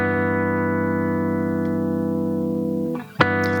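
A single guitar chord repeating from a looper pedal, sustained and steady and loud, then briefly cutting out near the end before the loop restarts with a sharp attack.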